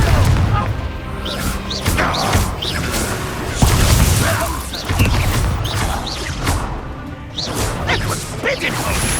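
Confringo blasting spells explode during a Hogwarts Legacy battle, with loud repeated booms, crashes and whooshes in a dense, continuous barrage, and voices over the fight.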